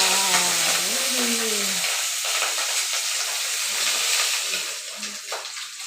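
Pabda fish frying one at a time in a pan, a steady broadband sizzle of hot oil running throughout, close and moderately loud, with a brief voice at the start.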